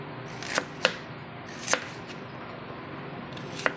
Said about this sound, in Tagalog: Hiwa na tayo ng patatas